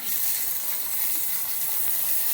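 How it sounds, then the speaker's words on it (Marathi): Steady, broad sizzling hiss of capsicum tossed into onions frying in a pan, a constant, fairly quiet wash of frying noise with no talking. "कांदा गुलाबी कलरचा भाजलेला आहे त्यामध्ये सिमला मिरची टाकूया"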